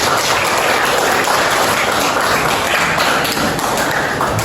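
A classroom crowd applauds a student group steadily, dense loud clapping that continues without a break from start to finish.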